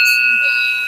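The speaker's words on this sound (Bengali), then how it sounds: "আর এটা ঘোরানোর সাথে আবার ঘন্টাও বাজে" A bell on a turning prayer wheel in Tawang gives a single clear metallic ring that hangs and slowly fades, close by and fairly loud.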